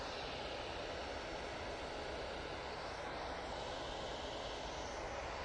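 Etihad airliner following a Cathay Pacific jet at Manchester Airport, a steady, broad jet engine roar holding at an even, moderate level throughout, distant and alone without voices.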